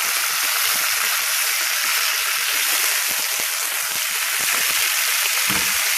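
Beef sautéing in oil with thyme and garlic in a pot for a vegetable beef stew, giving a loud, dense, unbroken sizzle close up that hisses steadily for the whole stretch.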